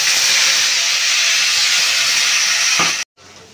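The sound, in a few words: nigella seeds and dried chilli sizzling in hot oil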